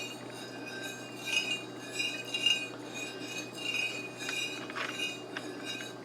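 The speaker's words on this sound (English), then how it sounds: "So now you just take a spoon and mix them all together." A spoon clinks repeatedly against a glass bowl while stirring maple syrup, vinegar and soy sauce together, a quiet, irregular series of light ringing taps, no voices.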